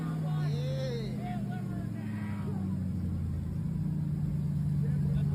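A sports car engine idles with a steady low rumble and drone, while voices speak over it and faint tonal sweeps drift in the background.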